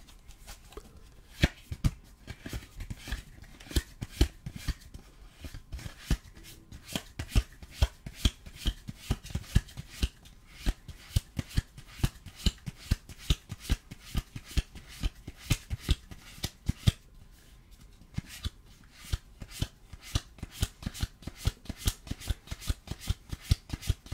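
A deck of tarot cards is flicked through card by card, giving rapid soft close slaps and riffles that run steadily with brief gaps.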